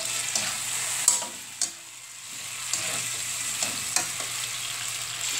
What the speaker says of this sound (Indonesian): dan di sini bahannya saya mau digoreng semuanya, cabai dan tomat dan kemiri ya